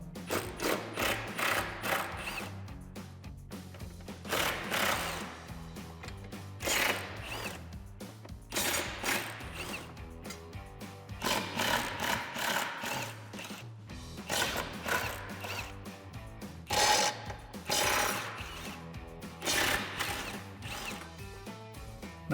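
A ratchet with a 13mm socket working bolts loose on exhaust cross members of a 2015-2023 HEMI Dodge Charger, bursts of fast clicking repeated many times with short pauses, close and clear.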